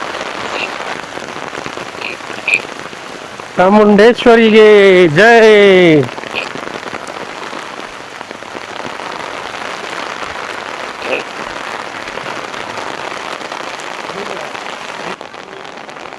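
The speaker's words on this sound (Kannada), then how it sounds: "ಹಂಗ್ ಹೊಡಿತಿದೆ ಮಳೆ." Heavy rain pours steadily during a pilgrimage to the Chamunda Devi temple in Kangra. A dense, continuous hiss runs from start to finish, and a crowd briefly chants loudly over it midway.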